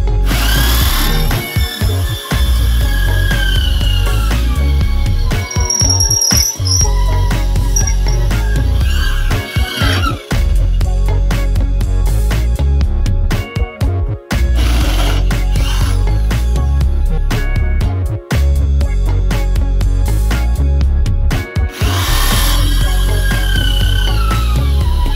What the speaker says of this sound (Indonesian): uji coba mengebor pada campuran semen dan pasir 1:1